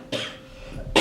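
Two short coughs from a person during a financial planning meeting, one near the start and one at the end, close and clear, with no talk over them.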